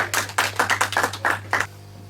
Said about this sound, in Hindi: एक बार जोरदार ताली हो जाए दीक्षा के लिए